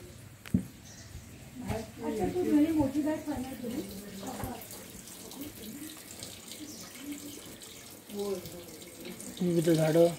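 A tap runs at a house in the Konkan region near Chiplun, Ratnagiri, Maharashtra, a soft continuous splash under a person speaking throughout, with the flow rising a little louder near the end.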